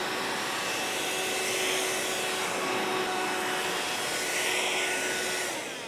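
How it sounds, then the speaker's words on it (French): A vacuum cleaner sucks up fabric lint from a sewing table at close range, running steadily with a constant whining drone, no voices over it. "il faut aussi aspirer là où on a coupé"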